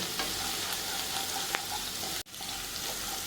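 Three chopped green chillies frying in hot oil for chilli chicken, a steady close sizzle with faint stirring clicks, briefly cut off by a short dropout near the end.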